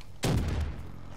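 A single loud shotgun blast from the Black Ops 3 video game booms out abruptly and decays over about half a second.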